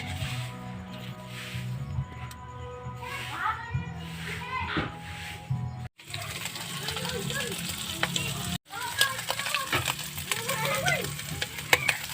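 Vegetables fry in a pan for adobo with a busy sizzle and stirring scrapes, while voices talk over the cooking and children can be heard in the background.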